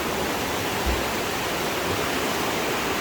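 Steady broadband rush of a river flowing over and eroding a farm's cement works, continuous and fairly loud, with no voices.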